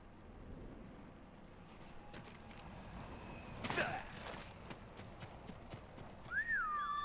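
Horse hoofbeats from the video game Ghost of Tsushima, a soft clip-clop rhythm under low ambient game sound, with a brief louder burst of effects midway and a rising tonal game sound near the end.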